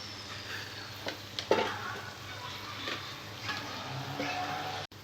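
Masala for stuffed brinjal curry fries and is stirred in a pan, a soft steady sizzle broken by a few scraping stirs and light clinks, fairly quiet and close.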